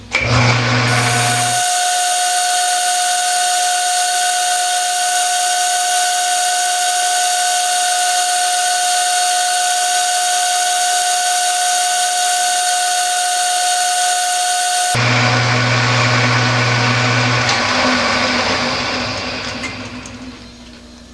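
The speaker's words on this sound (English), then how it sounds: "it's a very fast cutting drill, this one" A drill bores into metal on a lathe: a loud, steady high-pitched machine whine runs for about fifteen seconds with a constant tone, then shifts to a rougher running sound before winding down.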